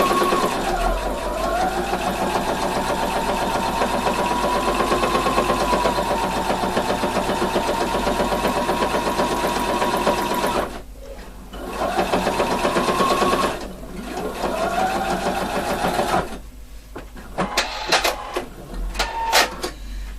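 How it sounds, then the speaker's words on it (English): Sewing machine stitching around the edge of a Peter Pan collar, a steady close mechanical whir with rapid needle chatter that runs for about ten seconds, pauses, resumes briefly, then gives way to a few clicks and handling sounds. "We're stitching all the way around here."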